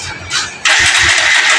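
A motorcycle engine cranks and catches after a tune-up with new spark plug and carburetor adjustment, then settles into a loud, close, rough idle with rhythmic low pulses.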